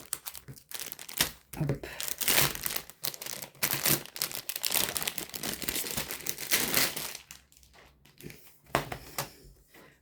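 A Temu parcel is opened by hand, its plastic packaging crinkling and tearing in loud, close bursts with short pauses between them. A voice speaks briefly near the start.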